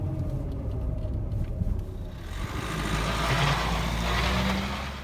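A Renault car with a faulty EDC dual-clutch gearbox bearing runs nearby, its engine hum joined by a harsh grinding whine that grows louder and rougher in the second half.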